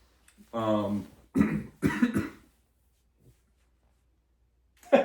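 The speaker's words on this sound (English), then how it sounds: "sorry, coughing" Two or three harsh coughs in a row, close by, then a quiet pause and a faint sound at the end.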